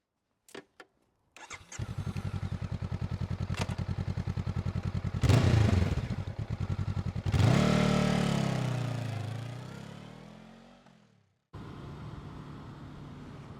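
A Honda CB500 Hornet motorcycle engine starts after a few clicks, idles with a steady rapid putter, revs up sharply twice, then winds down and cuts out before idling again, close and loud with no talk.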